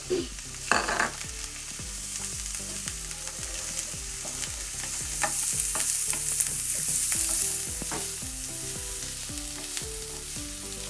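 Onions fry in a pan with a bright, steady sizzle while a utensil stirs them, producing repeated close scraping knocks at an uneven rhythm, and no one speaks.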